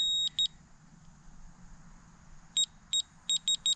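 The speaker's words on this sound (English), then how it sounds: "whenever that lower light beeps like that, which you can see there, that means you are lower." A laser level receiver on a road pipe installation beeps in short, sharp bursts signalling low grade, a double beep followed by a run of five evenly spaced beeps over a low outdoor rumble.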